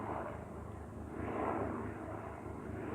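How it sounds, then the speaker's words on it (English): A black helicopter passes overhead at a distance, producing a faint, steady low rumble that swells slightly in the middle and then eases, with no talk. "there's some sort of, it looks like a black helicopter"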